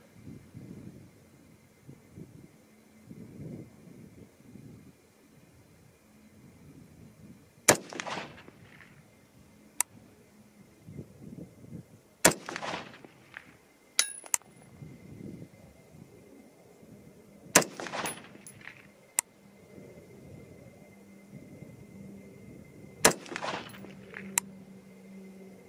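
Five rifle shots, 6.5 Creedmoor or .223 Rem, fired at a target outdoors, each a sharp, separate crack several seconds apart over low background rumble and faint voices.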